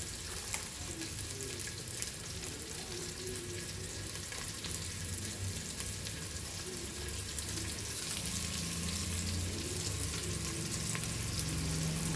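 Chopped onion fries in about a tablespoon of hot oil in a pan, a steady close sizzle with occasional stirring scrapes throughout.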